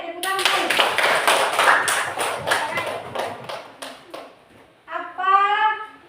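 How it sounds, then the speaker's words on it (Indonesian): A classroom of students applauds three groups, a dense burst of many hands clapping together for about four seconds, then fading, followed by someone speaking. "Mari kita tepuk tangan untuk 3 kelompok yang ada"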